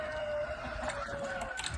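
Cream crested Legbar chickens, a blue-egg-laying breed, cluck softly in a pen on a farm, faint and distant over a steady background hum.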